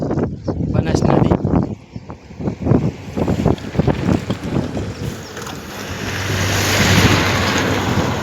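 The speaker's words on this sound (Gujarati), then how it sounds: "મિત્રો આ છે બનાસ નદી, જોઈ શકો છો આપ." Banas river flowing after rain: someone talks over a broad rushing wash of water and wind, and the flowing roar swells louder and steadier once the talking stops near the end.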